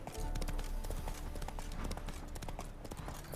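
Hooves of the horse Roach clip-clop in a quick, steady trotting rhythm on the ground in The Witcher 3 game world, close and clear throughout.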